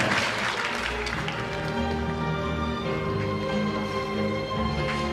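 Applause at a signing ceremony during a 2018 welfare rally, a dense steady patter of clapping hands filling the room, with a held musical tone sounding underneath throughout.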